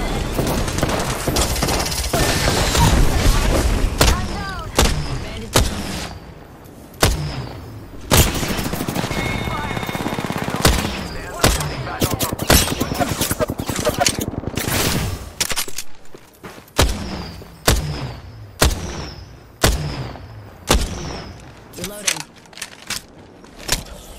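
Gunfire rattles in the video game Apex Legends: dense bursts of rapid automatic shots early on, then repeated sharp single and clustered reports at a steady pace, close and loud, with game voice lines over parts of it.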